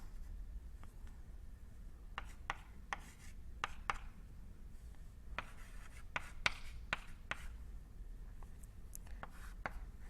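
Chalk or marker writing on a board during a linear algebra lecture, a quiet series of short scratchy strokes and taps arriving in irregular bursts against a low room hum.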